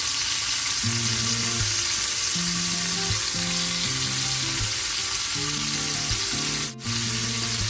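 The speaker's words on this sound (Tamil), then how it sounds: "நான் இந்த புளிக்கஞ்சிக்கு சேர்க்க போகிற இறாலை கொஞ்சம் வதக்கிட்டு சேர்க்க போகிறேன்" Prawns sauté in oil for tamarind porridge, a loud steady frying hiss that runs without pause while low tones rise and fall beneath it, with one brief dip near the end.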